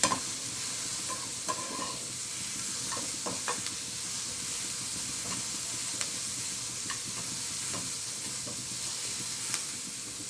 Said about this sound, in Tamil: வெங்காயத்தை லைட்டாக பொன்னிறமாக வறுத்துக்கலாம்.